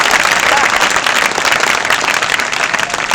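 Loud, dense audience applause at the opening of a provincial sports competition, honouring young girls who danced; a continuous roar of clapping close by with crowd noise.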